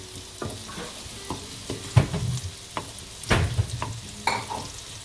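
Onions sizzling in a hot pan for oats daliya, a crackling fry broken by several louder stirring scrapes and knocks, close and without talk.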